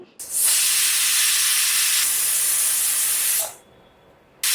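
A pressure cooker's loud, steady hissing steam whistle blasts for about three seconds, then cuts off abruptly, followed by a brief quieter hiss and another sharp burst at the end.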